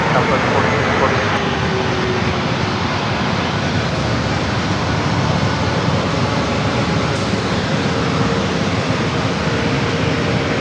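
An Airbus A321neo airliner rolls down the runway at San Diego airport, a loud, steady broadband engine roar that holds constant throughout.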